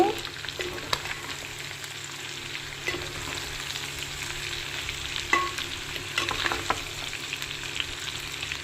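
Country chicken fries in a pan on a medium flame and is stirred one-handed, giving a loud continuous sizzle broken by scraping stirs and clinks, with no one talking.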